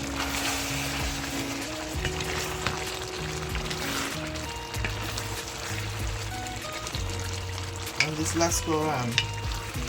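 Jamaican stew chicken, browned with soy sauce and mushroom sauce, sizzles loudly and steadily in a pot while being stirred, with occasional scraping clinks and a brief voice over the frying.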